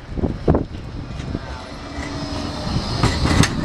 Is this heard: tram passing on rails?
yes